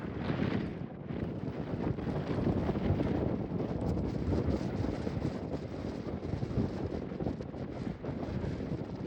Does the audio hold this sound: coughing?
no